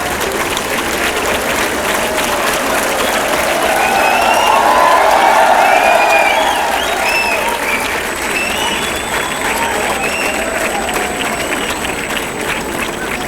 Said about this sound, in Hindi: और ताली बजा के दिल से स्वागत करें।